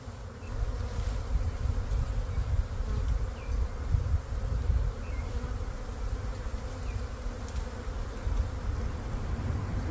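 A honey bee swarm clustered in a tree, with a dense, continuous buzzing drone that stays loud and steady throughout, close to the listener and without any talk.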